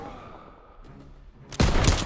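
Gunfire in the World War II shooter Call of Duty WW2, set during an ambush in the Ardennes, Belgium: a quiet stretch with faint rumbling, then a sudden loud burst of close shots in rapid succession near the end.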